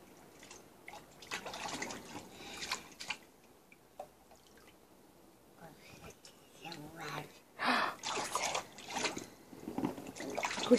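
A dog named Toby swimming outdoors: soft, intermittent watery splashes and drips at close range, growing busier toward the end, with people talking quietly over them.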